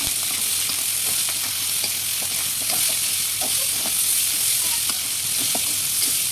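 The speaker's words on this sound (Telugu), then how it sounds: "ఆనియన్ పచ్చిమిర్చి కూడా వేసేసుకుంటున్నాను. వేసుకొని బాగా కలుపుకోవాలి." Onions and green chilies fry and sizzle in a pan for a vegetable semiya dish, with a steady hiss and repeated scraping stirs throughout, close and fairly loud.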